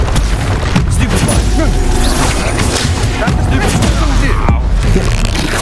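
A spell-casting blast from Hogwarts Legacy lands in a loud, dense battle mix, with booming impacts and crashing hits that come in bursts as a voice speaks over the action.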